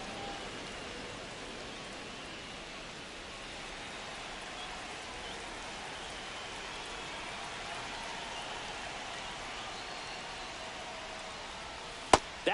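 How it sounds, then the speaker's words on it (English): Steady rain falls on a ballpark in the MLB 25 baseball game, a constant soft hiss with no voices, ending in a sharp brief click. "This rain is not letting up."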